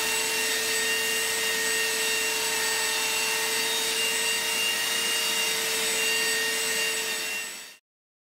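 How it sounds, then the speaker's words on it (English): A belt sander runs over a wooden coffee table top, a loud steady whine with a grinding rasp that holds evenly, then cuts off abruptly at the end. "A quick run over with the belt sander easily removed any saw marks."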